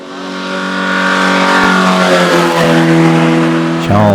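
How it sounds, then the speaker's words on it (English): An MGB Roadster hillclimb car with an 1800cc B Series straight-four engine revs hard and close, its loud harmonic engine note climbing and holding before a sharp gear change near the end. "The car powered, of course, by the 1800cc B Series engine,"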